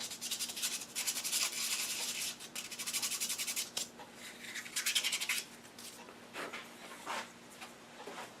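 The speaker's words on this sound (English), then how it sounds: "I'm going to touch that up by hand with a little sandpaper" Hand sanding a woodturning with sandpaper: repeated rough rubbing strokes in uneven bursts, close and moderately quiet, with a faint steady hum beneath.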